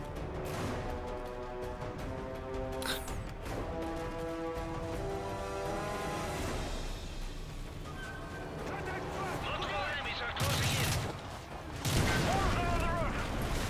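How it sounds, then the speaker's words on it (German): Grenade blasts and gunfire in the video game Call of Duty: Modern Warfare 3, with bursts and booms running under a player's voice commentary throughout and a few louder impacts near the end. "Viele Granaten."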